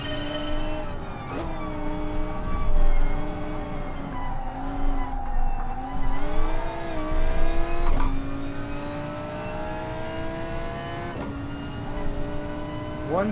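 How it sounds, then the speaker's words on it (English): A Gr.3 race car in Gran Turismo Sport on the Dragon Trail circuit revs hard and accelerates through repeated gear shifts, the engine loud and close with rising pitch sweeps and brief tyre squeal. "One thing I like about this car is it's just got brutal acceleration."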